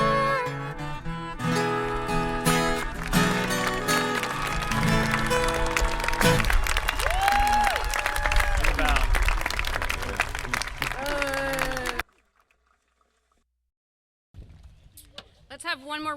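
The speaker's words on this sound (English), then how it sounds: "Let's have one more round of applause." Audience applause at a high school graduation ceremony: loud, dense clapping swells in as a sung performance ends, mixes with crowd noise and voices, then cuts off abruptly before speech resumes.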